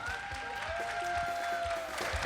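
Applause from a studio audience rings out as a mentor takes the stage at a televised music show, a soft continuous clapping heard at a distance with a sustained musical tone running beneath it.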